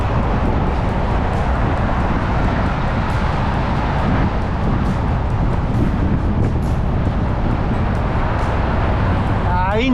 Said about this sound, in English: The wind is really gusty.